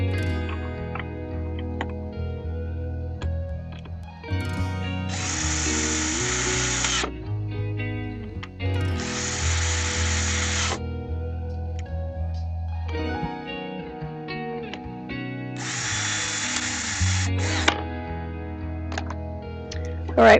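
A power drill drives screws into a planter box during assembly, giving three loud, close whirring bursts of about two seconds each, separated by quieter handling and talk.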